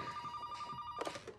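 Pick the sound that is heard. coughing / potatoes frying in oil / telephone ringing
telephone ringing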